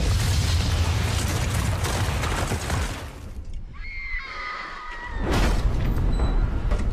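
A huge explosion from a Game of Thrones episode rolls out as a loud, broad roaring blast, then a horse whinnies shrilly in a quieter gap before another heavy burst of rumbling noise swells in.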